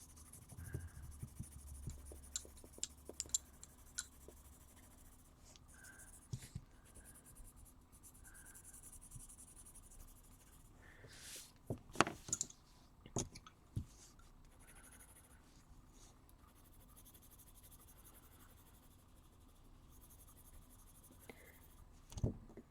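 Faint, close colored pencil scratching across paper while a galaxy background is filled in, steady strokes with occasional sharper scratchy bursts, heard alone without talk.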